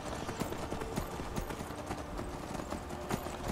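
A horse trots along a road in the video game Skyrim, steady rhythmic hoof clip-clops in an even pattern over a constant background ambience.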